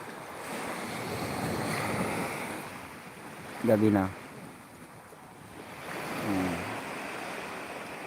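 Waves wash onto a beach at night in steady broadband surges, with a short burst of an indistinct voice partway through and a second fainter voice later.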